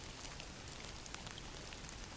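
Steady rain falling on a surface, a soft constant hiss with scattered raindrop ticks and no other sound.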